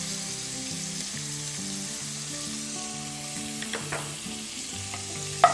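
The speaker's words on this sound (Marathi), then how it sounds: "हा कांदा थोडासा ट्रान्सपरंट होईपर्यंत आपल्याला शिजवून घ्यायचा आहे." Finely chopped onion sizzling in butter in a pan, a steady close hiss holding at an even level, with a few light stirring clicks toward the end and no one speaking.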